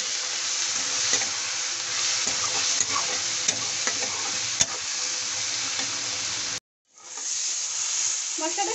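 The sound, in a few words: frying and stirring spices for okra masala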